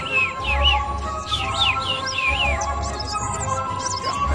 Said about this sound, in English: Above them flew the little bird, chirping merrily.